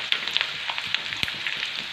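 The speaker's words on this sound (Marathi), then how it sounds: "लसूण थोडासा परतत आला त्यामध्ये आता आपल्याला कढीपत्त्याची पानं घालून घ्यायची." Garlic and curry leaves sizzle in hot oil for Maharashtrian curd kadhi: a close, steady frying hiss with scattered crackles and pops, no voices.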